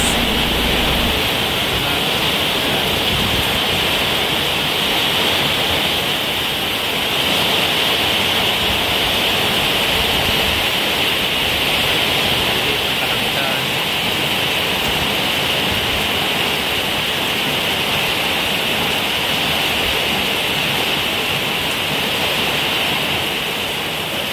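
Typhoon wind roars through tree leaves as a dense, steady rush of broadband noise, loud and continuous throughout with slight surges, no voices.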